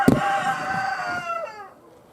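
Farm chickens cluck and a rooster crows close by, one short crow trailing off over about two seconds.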